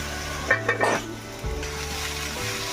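Vegetable bhaji fries in a pan with a soft, steady sizzle, broken early on by a few sharp clinks of a utensil against the pan as it is stirred.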